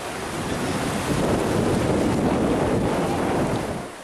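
Water of the Santa River near Huaraz rushes past in a steady, dense roar with gusty wind noise. No voices are heard over the continuous broadband wash.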